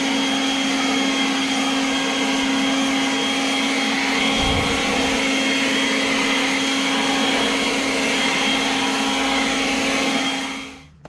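Kobalt 24-volt cordless leaf blower running at full power, a loud, steady whooshing roar with a constant motor whine that holds unbroken for about ten seconds, then cuts off abruptly.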